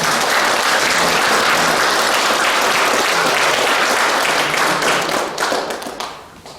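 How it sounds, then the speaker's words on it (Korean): Sustained applause from an audience at a Lenten lecture, dense steady clapping filling the space before tapering off at the end. "큰 박수로"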